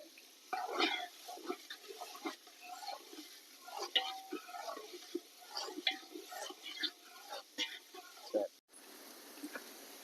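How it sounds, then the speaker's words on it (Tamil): Onions frying in a pot for biryani are stirred with a spoon, producing soft scraping and light sizzle with occasional knocks, faint and close, while a voice speaks quietly at times. "நல்லா பொன்னிறமா வர வரைக்கும் கிண்டிக்கிட்டே இருந்துட்டு கருகு விடாம பார்த்துக்கிறோம்"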